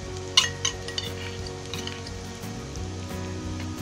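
Ginger and garlic added to onion frying in a pan for restaurant-style kadai paneer, with a few sharp metal spoon clinks against the pan early on, then steady soft sizzling and stirring close up.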